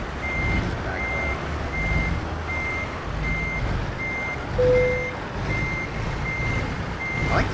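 Truck backing up in American Truck Simulator, regular reversing beeps repeating at an even pace over a low engine rumble.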